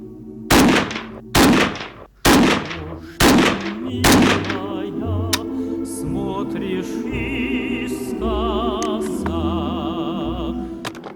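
A Type 81 rifle fires 7.62x39 rounds in five sharp, loud shots spaced about a second apart, each with a short echoing tail, followed by quieter ringing and background hum.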